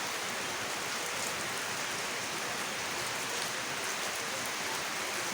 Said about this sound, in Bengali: ওই যে বৃষ্টির শব্দ